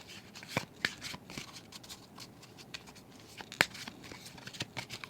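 Tarot cards being shuffled by hand close up and quietly, a soft papery riffle with scattered crisp snaps and flicks, including a sharper card slap near the middle.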